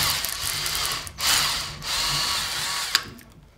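A power drill whines in continuous bursts, pausing briefly twice, as it bores up close through the hard plastic back of a Nerf Recon CS-6 blaster.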